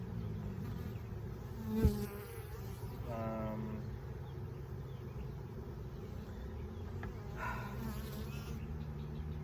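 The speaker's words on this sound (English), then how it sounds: "There are bees everywhere." Bees swarming around an opened beehive during beekeeping work, a close continuous buzzing drone with individual insects passing near, plus a brief knock and some handling noise.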